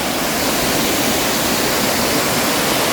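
Kemmanaballi Falls, a waterfall at Jalsoor in Sullia, pours in a loud, continuous, even roar of rushing water with no voices.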